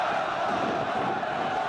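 A large crowd at a mourning gathering in Tripoli, Libya, chants and shouts together, loud and continuous, with a roaring wash of many voices.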